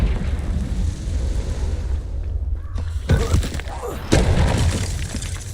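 Confringo fire spell blasts in the Hogwarts Legacy video game, with booming bursts landing around the 3- and 4-second marks over a constant rumbling game soundtrack and combat noise.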